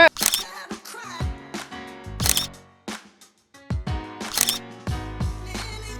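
A camera shutter clicks while photos are taken outdoors on Koh Samet island, giving sharp, close clicks in a few bursts mixed with people talking nearby.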